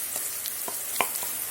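Masala paste dropped into a hot pan for aloo kurma (potato kurma) gives a steady, fairly quiet sizzle and hiss, with a few soft stirring taps.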